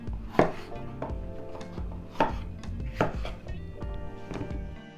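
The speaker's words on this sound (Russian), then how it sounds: "Сладкий болгарский перец будем резать тоже не мелко." Knife chopping a red sweet bell pepper into fairly large pieces on a board, with a few distinct, loud chops spaced roughly a second apart and softer cutting sounds in between.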